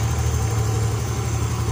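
A Yamaha Xeon GT 125 scooter engine idles steadily after a cylinder block and piston kit replacement, a close, even low hum with a regular pulsing throb and no speech.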